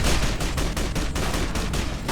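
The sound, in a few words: shotgun firing in the video game Fallout New Vegas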